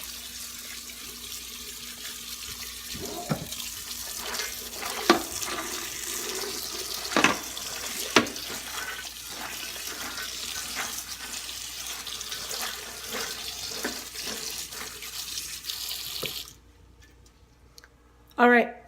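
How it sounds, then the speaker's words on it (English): Cold tap water runs steadily into a kitchen sink over dry beans for rinsing, a continuous hiss with scattered clicks and knocks of beans and colander, cutting out near the end. "You pour them in here, turn on the cold water"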